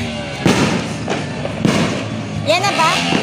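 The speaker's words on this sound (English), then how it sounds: "Firecrackers, firecrackers, boom, boom, boom." Firecrackers exploding outdoors at New Year, several loud sharp bangs spaced through the clip amid crowd noise, with people talking and shouting nearby.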